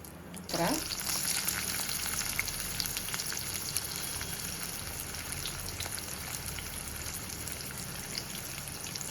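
Cinnamon, bay leaf and cumin sizzle in hot oil for a pepper chicken gravy: a steady, close crackle and hiss starting with a sharp burst and holding evenly to the end.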